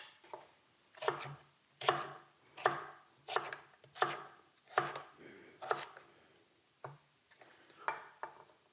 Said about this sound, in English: I'm gonna be chopping that into small chunks as well.